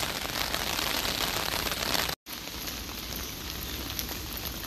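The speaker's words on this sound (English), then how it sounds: "It's raining." Steady rain pours down outdoors, a dense even hiss of drops on surfaces that runs throughout, with a brief cut partway before the same downpour resumes.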